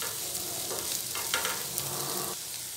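Onion frying with ginger-garlic paste in a pan for paneer bhurji, a close, steady sizzle with a few soft stirring scrapes over the brief span, no voices.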